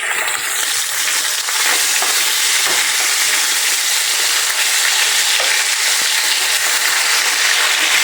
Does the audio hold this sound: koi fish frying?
yes